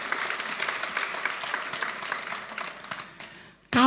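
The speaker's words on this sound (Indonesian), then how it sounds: "Tepuk tangan untuk kebenaran ini." A church congregation applauds with dense, continuous clapping that gradually tapers off, followed by a sudden loud voice at the very end.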